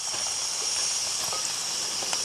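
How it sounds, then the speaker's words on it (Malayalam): Cut potatoes frying in hot coconut oil in a pan, giving a steady high sizzling hiss with faint crackles throughout. "ഇതിലേക്ക് നമ്മൾ ചൂടായ എണ്ണയിലേക്ക് പൊട്ടറ്റോ മുറിച്ച് വെച്ചതിട്ടു"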